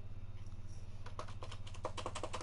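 Close, light keystrokes on a computer keyboard start after a quiet second and build into a quick, uneven typing run over a constant low electrical hum.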